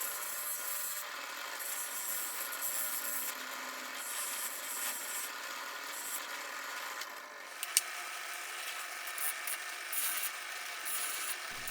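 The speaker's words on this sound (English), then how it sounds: "I'm using the buffing wheel on the cutter head and the blade assembly parts." A buffing wheel polishing the cutter head and blade assembly parts of a rusty Sears jointer, a steady high-pitched whirring rub that runs evenly at moderate level without talk.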